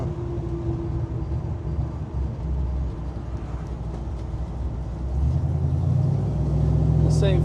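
A 1970 Chevrolet C10 pickup with a ZZ502 big-block GM crate engine making over 500 horsepower, heard from inside the cab as a deep, steady engine rumble that swells louder in the final seconds as it accelerates.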